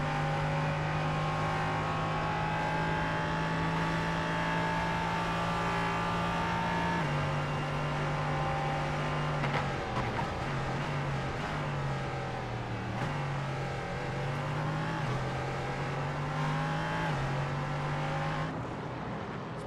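Race cars, LMP3 prototypes and GT4 machines, run on track at Virginia International Raceway, with a continuous loud engine drone that shifts pitch through gear changes and overlapping passing cars.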